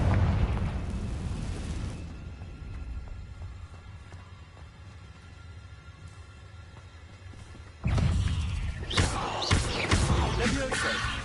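Confringo blasting spells from a Harry Potter game burst into a booming explosion that decays into a long rumbling tail, then a second loud blast cluster with crackling debris near the end.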